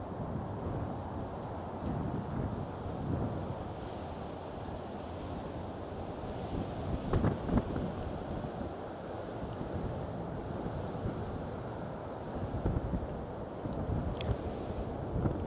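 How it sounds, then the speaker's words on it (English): Strong wind blows outdoors at sunset, a sustained rushing roar with microphone buffeting that swells in a few louder gusts over about fifteen seconds, with no speech. "It's very windy."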